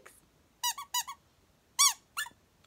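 An unbranded vintage toy doll squeaks in quick bursts, two pairs of short, shrill, nasal chirps close up with a pause between them, and no talking over them.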